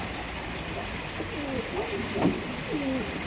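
Pet pigeons or doves coo in short, low, repeated calls at close range, set against steady outdoor wind noise on a breezy morning.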